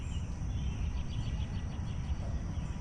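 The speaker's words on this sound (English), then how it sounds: "So we've got cicadas everywhere." Seven-year cicadas fill a summer garden with a continuous high, steady buzzing drone that is fairly faint and even throughout, heard alone with no talk.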